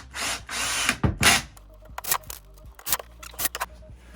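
Power drill driving screws into pine boards while assembling a folding workbench, with a few loud bursts of whirring and grinding separated by quieter clicks and handling knocks, close by.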